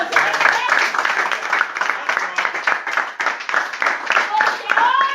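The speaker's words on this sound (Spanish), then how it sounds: "Denle un aplauso al Señor." Applause rises from a church congregation during a Spanish-language sermon: rapid, uneven handclaps from many people close by, with voices calling out among the clapping.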